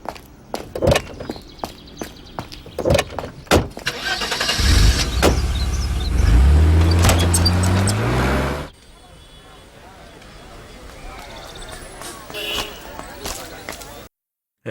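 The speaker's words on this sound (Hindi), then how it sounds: "आज गाड़ी मैं चलाऊंगा।" A car engine starts with a rising low rumble and pulls away, loud and close, midway through a street scene in a dubbed South Indian action film; clicks and footsteps precede it and a quieter ambience follows.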